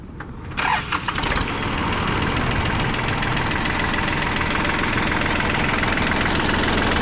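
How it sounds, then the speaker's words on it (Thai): A small diesel engine on a Kubota L1-225 tractor cranks and catches, then settles into a steady, rattling idle that runs on continuously, close and fairly loud. "เครื่องยนต์ไดเล็กครับ ผมสตาร์ทได้เลย"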